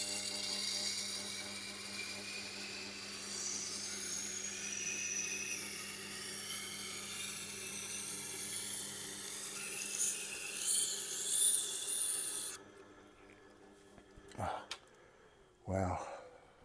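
A Miyabi Santoku kitchen knife is ground on a Tormek sharpening wheel, giving a steady, fairly loud whirring grind for about twelve seconds before it stops, followed by a few brief knocks and handling sounds.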